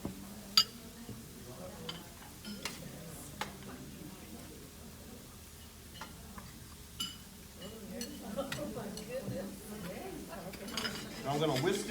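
Parmesan cheese being whisked into hot cream in a pan, with soft metallic clinks and scraping taps scattered over steady kitchen background, while a person talks nearby.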